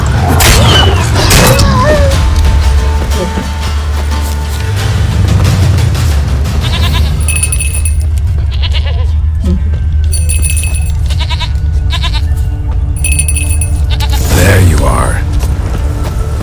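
A goat in the video game The Witcher 3 bleats loudly over a booming game soundtrack and ambient effects, with a second bleat later and someone speaking briefly.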